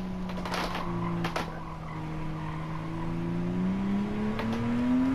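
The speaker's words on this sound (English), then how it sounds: "Very easy to over rev just like that." Ford GT engine in Gran Turismo 7 on a dry track, a steady droning tone that climbs sharply in pitch toward the end as it over-revs, with brief tire squeal bursts early on and no talking.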